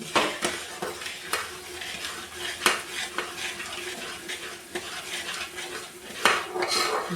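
A sweet mixture sizzles in a pan as sugar syrup is stirred in, with a steady frying hiss and repeated sharp clicks and scrapes of a metal spoon against the pan, close and fairly loud, with no voices.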